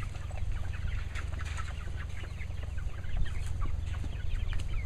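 Chickens cluck and squawk steadily inside a mobile chicken tractor run, several birds at once, close and continuous over a low background rumble.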